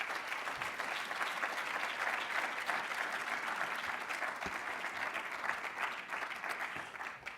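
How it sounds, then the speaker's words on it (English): Steady applause from an audience at a community college State of the College address, a dense even patter of clapping that carries through the whole stretch without voices above it. "That deserves a round of applause."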